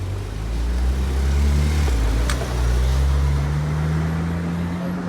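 A Porsche Turbo S pulls away with a steady, loud low engine and exhaust drone that dips briefly midway, then settles back into an even, sustained rumble with no one talking.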